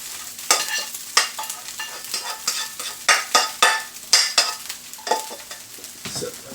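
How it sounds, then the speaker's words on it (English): Vegetables are stirred into pineapple fried rice in a hot pan, giving a steady loud sizzle broken by repeated rhythmic scraping strokes of the spatula, close up with no voices. "now I'm going to add the vegetables in, just like this"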